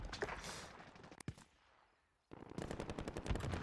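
Gunfire during a Call of Duty: Warzone match, rapid automatic bursts of close shots, a lone sharp report, a short lull, then another sustained stream of fast rounds.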